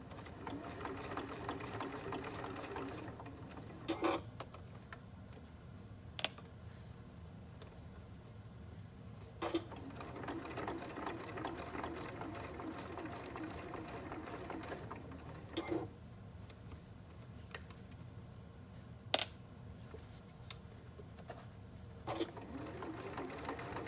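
A sewing machine stitches a fabric binder pouch in bursts of steady, fast whirring, separated by short pauses with small clicks, close and fairly quiet.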